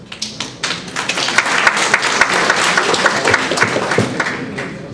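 A crowd breaks into sustained applause, many hands clapping in a dense, steady patter that stays loud throughout.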